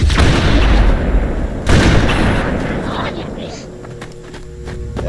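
An overcharged plasma pistol shot in Halo: Combat Evolved bursts out loud and near, followed by a second heavy blast about a second and a half later, with combat noise rumbling between them.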